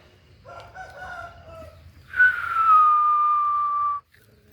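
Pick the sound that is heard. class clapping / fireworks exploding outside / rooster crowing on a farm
rooster crowing on a farm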